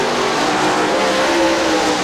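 Super late model race cars racing down the backstretch at Crystal Motor Speedway in Crystal, Michigan, engines roaring loudly and steadily at high revs, a dense continuous wall of motor sound with no talk.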